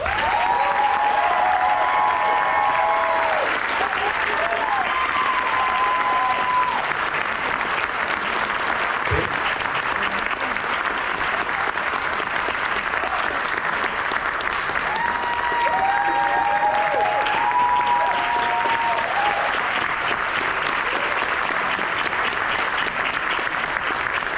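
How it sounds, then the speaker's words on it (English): Sustained, steady applause from an audience at a RoboBoat 2026 award ceremony, a dense wash of clapping with faint cheering and voices underneath throughout. "So please, I'd like a round of applause for David, Jamie, and Matthew from the RoboNation product team"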